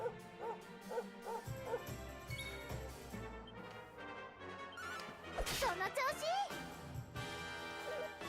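A companion dog in the Dragon Quest XI video game barks in short yips amid the game's music and effects, with a person talking over it.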